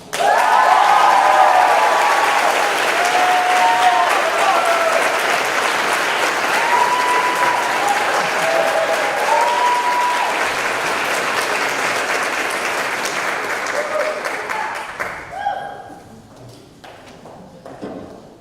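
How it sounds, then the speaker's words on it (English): Audience applause at a university physician assistant long coat ceremony, a loud full round of clapping that gradually thins and fades out near the end, with faint voices over it. "Let's give them one more round of applause."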